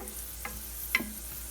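Carrots sautéing in a pan over medium heat, a low steady sizzle with two soft utensil taps.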